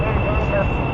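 Steady, loud jet engine roar from a supersonic-capable airplane in Kerbal Space Program, a continuous broadband drone with a high whine, sustained without a break.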